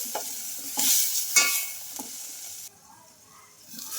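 Tomatoes frying in a pan with salt and turmeric, a crackling sizzle broken by several brisk stirring strokes, close by, settling into a quieter simmer near the end.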